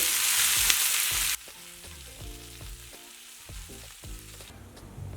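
Masala frying in a pan for a tomato onion curry: a loud, bright sizzle in the first second gives way to a quieter crackle with scraping and stirring clatter close by, no voices.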